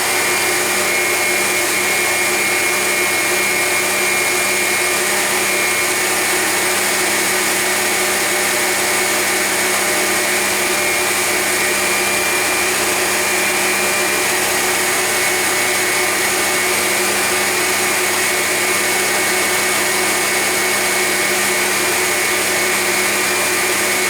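An electric mixer whisks steadily on speed 5 for Jaffa Cake batter, a constant loud motor whir with a high whine that holds unbroken and alone throughout.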